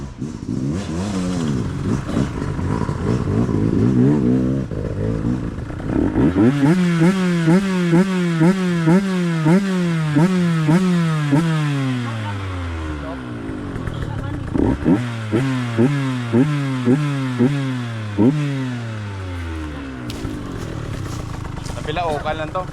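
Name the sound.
dirt bike motorcycle engine revving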